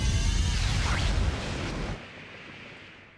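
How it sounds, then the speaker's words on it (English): Game explosion sound effects from a Chronicles of Elysia session, a dense rumbling blast that fills the first two seconds, then a fading tail, loud and without talk. "do I hear multiple explosions going off?"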